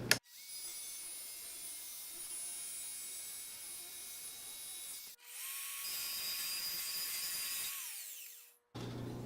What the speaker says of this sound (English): So I'm going to cut both sides or both joints at once.